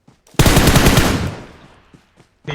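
Loud, rapid burst of machine gun fire in the PUBG Mobile battle royale game, a dense volley lasting about a second before tailing off, followed by a few faint distant shots.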